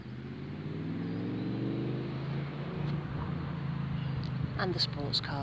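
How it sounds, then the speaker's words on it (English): Cars pass along a nearby road as a steady, fairly loud engine rumble that swells and fades, with birdsong chirping on top. "And the sports cars."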